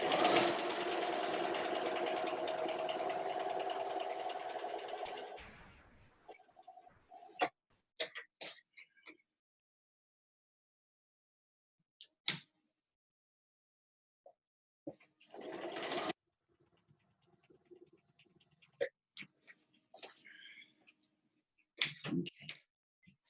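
A sewing machine stitches a shadow box quilt block in a steady whirring run for about five seconds. Then comes a brief second burst later, with scattered clicks and handling noises between.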